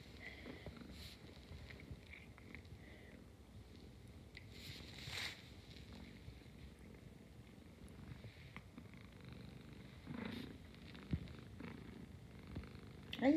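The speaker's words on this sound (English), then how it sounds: "Are you purring?" A cat purrs softly and steadily up close, a low continuous rumble with a few brief rustles and handling noises over it, and no talking.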